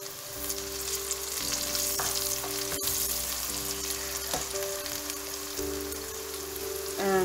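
Tomatoes going into browned onions frying in a pressure cooker for chicken curry, giving a steady close sizzle with stirring scrapes and a clack, with a tonal hum underneath and no talk.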